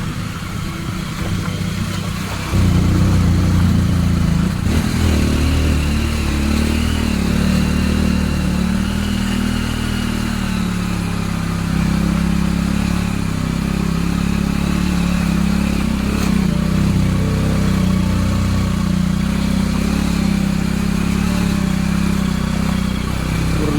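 A motorcycle engine runs steadily while riding along a narrow village road near Kelshi in Dapoli, loud and close with a constant low drone and wind rush after a quieter start.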